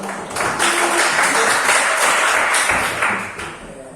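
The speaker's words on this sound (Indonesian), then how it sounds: "Kelompok 3, tepuk tangan." A classroom group claps for a student group, a short round of uneven hand clapping that swells quickly, holds briefly and tapers off.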